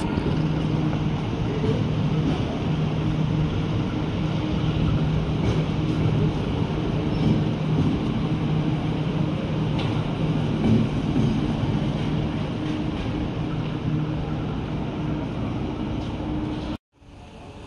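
Riding inside the KA Fajar Utama passenger train in Indonesia, near Yogyakarta, brings a steady low rumble and rolling noise that continues throughout, with a brief drop near the end.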